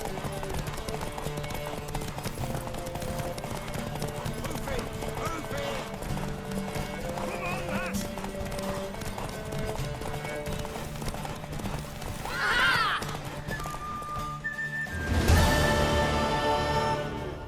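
Rapid hoofbeats clip-clop beneath music and game sounds in The Witcher 3: Wild Hunt, followed by a loud horse whinny near the end.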